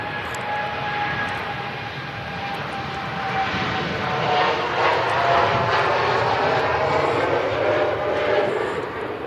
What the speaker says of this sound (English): TUI Dreamliner, making its way to the Caribbean.